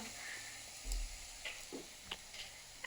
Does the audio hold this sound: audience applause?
no